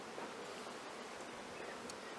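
Honeybees hum on brood frames in an open hive as a steady, dense buzz, close and continuous, with no talking.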